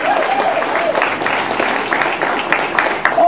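Steady applause rolls through a gathered crowd at a community public art mural dedication, many hands clapping at moderate volume while voices chatter underneath.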